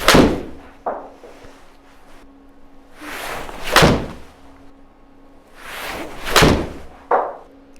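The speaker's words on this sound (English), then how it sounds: "I've hit a handful of shots now with the JPX Tour" Mizuno JPX 921 Tour forged irons striking golf balls outdoors, about four sharp, loud impacts spaced a couple of seconds apart, each with a quick crack and short swooshing decay.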